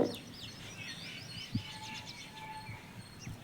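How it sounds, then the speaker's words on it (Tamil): Outdoor birdsong among green trees includes parrot calls, thin high chirps and trills at moderate distance over a quiet background, with one short low thump midway. "கிளி சவுண்டு"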